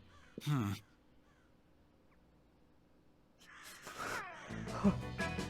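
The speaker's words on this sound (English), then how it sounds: "I assume the squawking is the chicken." A chicken in a dating sim video game lets out one sharp, close squawk near the start, followed by quiet and then a busier stretch of overlapping sound with voices.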